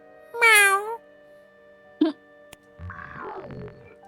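A voice imitates a cat's meow once, followed by a sharp click and some soft, muffled rustling.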